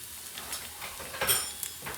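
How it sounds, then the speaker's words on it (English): Chili and garlic frying in hot ghee, a soft, steady sizzle with faint crackles and a brief louder burst midway, close and without talk. "you just fry the garlic till the rawness goes"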